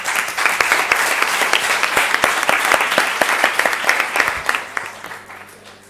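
Conference audience at a labour economics meeting bursts into steady applause, many hands clapping densely for several seconds before thinning out toward the end.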